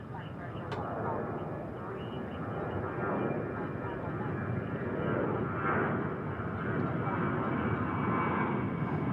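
An airplane departing at DFW airport, its engine roar building steadily over the whole stretch, broad and moderately distant, with a voice speaking over it.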